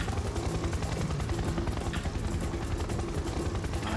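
An attack helicopter in the shooter game Serious Sam 3: BFE makes a loud, steady rotor drone with rapid rhythmic chopping that fills the whole stretch.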